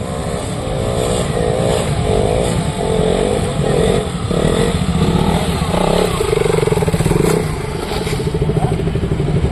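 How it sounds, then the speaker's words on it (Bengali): A motorcycle rides a wheelie along a bypass road at Berhampur, its engine a loud, close, continuous drone with rising and falling revs and some clatter. Faint voices can be heard beneath the engine. "এই যে সামনে চাকা উঠিয়ে আরেক ভাইজান চলে আসছে"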